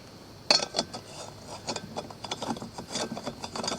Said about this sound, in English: you've got to use one of these can taps, which has a very sharp plunger in the middle of it that's going to puncture the can once you screw this thing on